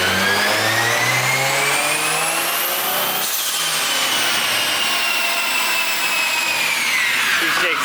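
Nissan Silvia with a swapped 1JZ engine revving hard on a dyno, pitch sweeping steadily upward to a peak near the three-second mark, then falling as revs drop, with strong loud harmonics throughout and a brief rise again at the end.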